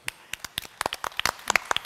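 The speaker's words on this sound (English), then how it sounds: "Round of applause, okay." Scattered claps from a conference audience at a payments event in Malta, a sparse round of applause with uneven, separate hand claps rather than a full ovation, fairly quiet.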